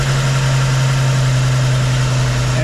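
Car engine idling with twin Rochester 2G carburetors during idle adjustment, a steady loud hum with a strong low drone, close and unchanging over a few seconds.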